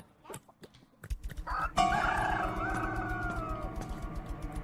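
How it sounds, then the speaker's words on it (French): Gobbling, clucking poultry calls from a chicken in the Evil Nun 2 horror video game, several short calls followed by a loud sustained warbling cry over a steady low game background. "J'ai vu le poulet."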